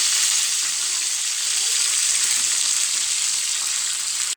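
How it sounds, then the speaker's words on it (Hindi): Beef reshmi kebabs shallow-fry in oil on a flat tawa, giving a steady, loud, even sizzle that holds throughout without voices. "इसको हमने डीप फ्राई नहीं करना, हमने शैलो फ्राई करनी है।"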